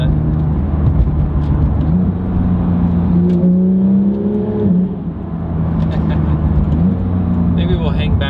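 A Porsche fitted with a BMC intake filter accelerates onto a freeway in manual mode, engine droning and rising in pitch through gear changes, heard from inside the cabin with someone talking over it.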